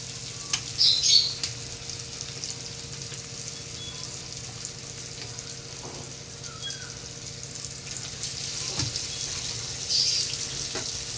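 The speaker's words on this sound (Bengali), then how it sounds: "মাংসটা আস্তে করে দেবো গ্যাসটা আস্তে করে দেবো একটু নাহলে মশলাটা তলায় ধরে যাবে" Chicken pieces marinated in turmeric and oil frying in spiced oil in a pan over a low gas flame, with a soft, steady sizzle under a faint background hum and occasional stirring noises.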